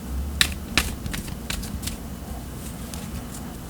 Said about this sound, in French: qu'est-ce qui se passe avec tes cartes qui s'agitent?